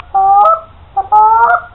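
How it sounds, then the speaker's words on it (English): A handheld goose call blown to make the murmur, two short honking notes in quick succession, clear and close with no background noise. "Now on the murmur, it's a really good call to get it to have those geese lay down"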